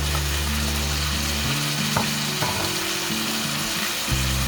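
Carrot, zucchini and bell pepper stir-frying in a hot pan, a steady loud sizzle with stirring scrapes and low humming tones running throughout, no voices.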